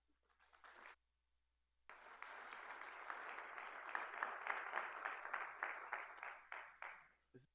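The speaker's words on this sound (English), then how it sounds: "Once again, a round of applause." Audience at a city manager swearing-in ceremony breaks into loud, sustained applause welcoming the mayor after a brief earlier burst and a short pause; clapping swells and holds steady with no voices over it.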